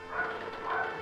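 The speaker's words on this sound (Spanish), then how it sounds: "Perro ladrando." A dog barks in The Legend of Zelda: The Wind Waker on Wii U, a short, faint burst of a couple of yips from the game.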